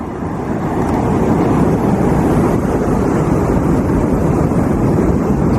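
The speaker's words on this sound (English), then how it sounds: "Some wave splashes in the background" Steady, continuous rush of surf and wash, loud and close, with a broad roaring texture and no distinct breaks.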